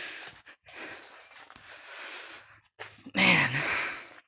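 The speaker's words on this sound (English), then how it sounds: "Forgive the heavy breathing, folks." Heavy, uneven breathing comes in close gasps and sighs while exploring an abandoned amusement park, ending in a louder sharp exhale.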